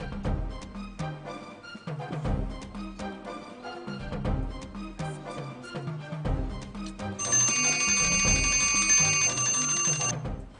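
A bell rings on a school quiz show, a bright sustained metallic ringing that starts partway through and lasts about three seconds, standing out over ongoing music and background sounds.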